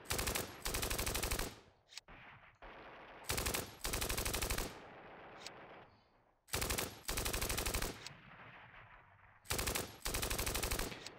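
Machine-gun fire in the wargame Steel Panthers, set in a 1980 Iran-Iraq war battle: four separate loud sustained bursts of rapid shots, each lasting about a second and a half, with quieter gaps between them.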